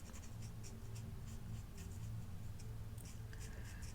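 Dual-tip felt markers, each with a fine point and a brush point, colouring paper for a gift pouch: a steady, close scratchy swishing of felt tips in short repeated strokes, with no voices.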